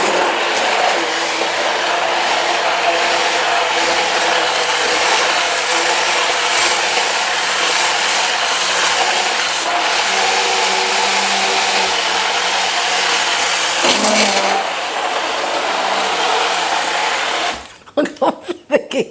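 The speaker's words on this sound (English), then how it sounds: "And just with my stick blender, I'm just going to whiz it up." A stick blender whirs loudly and steadily as it purées cooled homemade pasta sauce, a continuous motor drone that cuts off near the end into a few clattering knocks.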